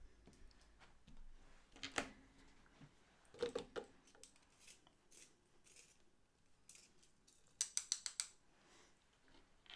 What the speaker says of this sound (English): Sharpening time.